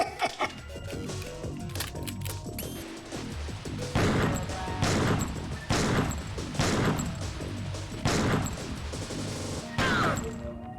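Gunfire in the video game Killer7 comes as a run of sharp, loud shots spaced roughly a second apart, with busy game sounds between them and no speech.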